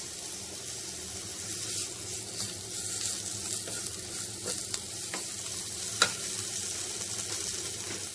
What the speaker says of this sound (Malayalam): ഇത്രയും ചേർന്ന് നന്നായി വഴറ്റുക.